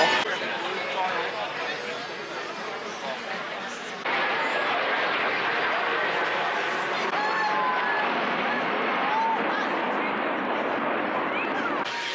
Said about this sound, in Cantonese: 唔知點解今日有好多戰機喺上空飛過。